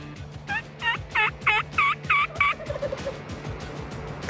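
A wild turkey in the Montana countryside gobbles in a rapid rattling burst of about seven throaty pulses, fairly close and loud, then fades into a quiet outdoor background with a low steady hum.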